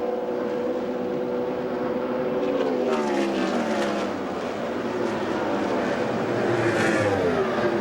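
Indy race cars at the 1998 Indianapolis 500 scream past at speed, their high engine notes sweeping downward in Doppler fashion as several cars pass in quick succession over a continuous distant crowd and track roar.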